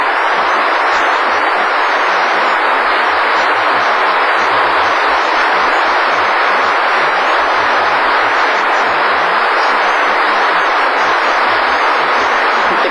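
Wimbledon crowd at the 2002 championship ceremony applauding steadily, a dense, loud, unbroken wash of clapping from a large stadium audience that holds level throughout.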